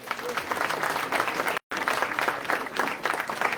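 A music festival audience applauds a performer with loud, dense, sustained clapping, briefly cut off for a moment before carrying on just as strongly.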